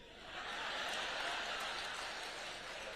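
An audience claps at a Hindi comic poetry gathering, a fairly faint, steady wash of applause that swells slightly and holds for a few seconds without talk.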